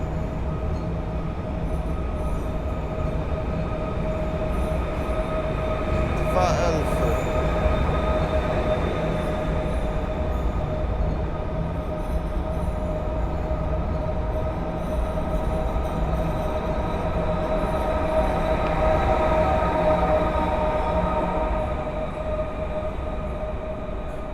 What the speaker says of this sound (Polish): opuszcza peron numer 3 i udaje się w kierunku stacji Warszawa Wschodnia